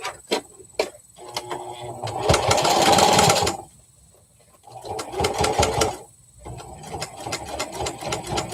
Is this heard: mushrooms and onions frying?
no